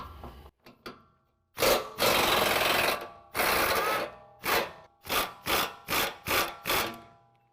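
A wrench works the radius arm bolt on a 2017 Ford F-250 Super Duty during a lift kit install, using 24 mm and 27 mm sockets: a few long rasping pulls, then a steady run of six short strokes, close and alone.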